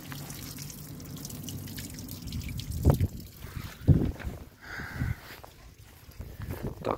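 Water draining from the cooling system of a Zhiguli car during a coolant change, dripping and trickling in a quiet irregular patter with a couple of sharper splashes.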